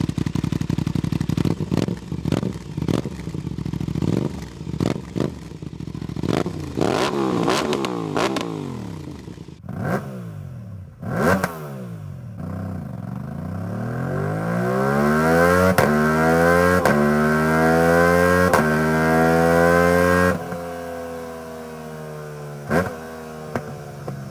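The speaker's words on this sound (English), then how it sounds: "I wonder what an aftermarket exhaust would do to that." An Aprilia RS660 motorcycle engine revs hard through a loud, throaty aftermarket exhaust, repeated blips rising and falling, then a long sweeping climb and drop in pitch, close and loud.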